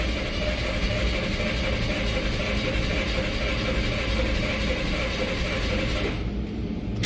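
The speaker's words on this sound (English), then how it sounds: "see while I'm cranking what I have" A 2005–2008 Nissan Pathfinder engine cranking without starting, in a crank-no-start condition. It gives a loud, steady mechanical drone for about six seconds, then cuts out abruptly.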